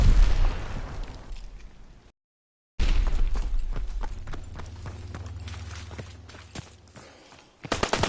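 Grenade blasts in the World War II shooter Call of Duty WWII, heavy booming bursts near the start and end with a rumbling aftermath between them, mixed with battlefield noise.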